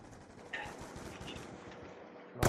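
Burst of gunfire in a video game, likely a sniper rifle shot, with scattered sharp reports through the clip and a loud blast at the very end, heard alone without talk.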